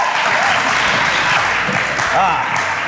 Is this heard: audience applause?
yes